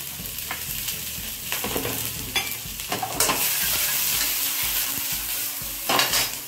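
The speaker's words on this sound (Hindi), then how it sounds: "वेजिटेबल्स को हम लोग को ऐसे ही बनाना है, सॉटे कर लेना है" Vegetables sauté over high flame in a pan for Schezwan corn, hissing steadily while a spoon stirs and scrapes in irregular strokes, close and clear with no talk.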